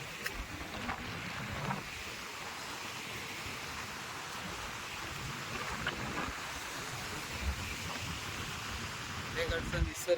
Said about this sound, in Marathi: हा जोर बघा पाण्याला किती झालाय.